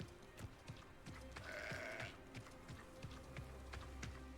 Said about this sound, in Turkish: Burada bir keçim var.